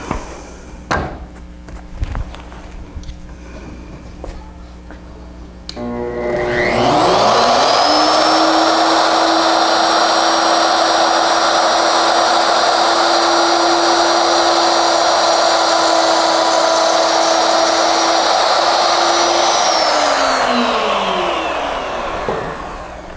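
A wood router cutting a tapered stopped flute about 1/8 inch deep: a loud motor spins up after a few handling clicks, whines steadily for about thirteen seconds, then winds down.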